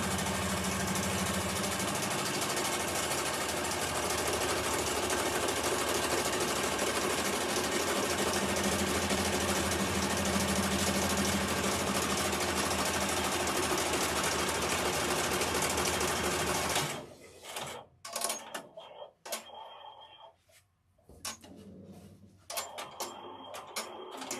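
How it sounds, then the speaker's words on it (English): Embroidery machine stitching fabric placed right sides together in the hoop for a unicorn-topped zipper bag, a steady dense mechanical whir running loud and unbroken for most of the clip before cutting off into scattered clicks and quieter handling noises. "So fabric right sides together, so face down, and stitching again so that we can turn it."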